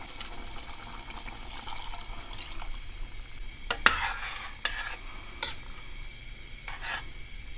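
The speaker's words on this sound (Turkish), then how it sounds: "Şimdi yemeğimizin suyunu ilave ediyorum." Water poured into a pot of meaty dried okra stew, a continuous hissing, splashing pour with a light sizzle underneath, punctuated by a couple of sharp clinks of a utensil against the pot.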